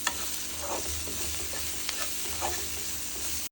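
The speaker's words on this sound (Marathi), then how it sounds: "आपण हा मसाला घालू सगळीकडे पसरून मिक्स करून घेऊ सगळीकडे" Masala being stirred into vegetable Maggi noodles frying in a pan, with a steady sizzle and intermittent scraping strokes of the spoon, close and continuous, no talk.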